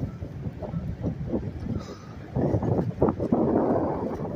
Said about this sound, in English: It's kind of windy, so you probably hear a lot of wind